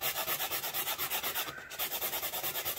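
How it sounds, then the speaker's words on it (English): Quick rhythmic rubbing strokes as a small cured UV resin bunny marker's edge is sanded by hand, close and steady with a brief pause midway. "But see, I just sand the edge off."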